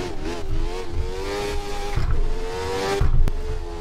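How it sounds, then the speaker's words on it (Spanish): A Jordan 191 Formula 1 car's engine revs hard at the Nürburgring, a close, loud, rising whine that climbs in pitch, drops back during gear shifts, and climbs again. "con un motor tan puesto a punto, con este sonido"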